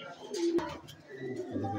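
Pigeon with black-feathered wings cooing close by, a brief soft coo amid light handling noise and faint background sound.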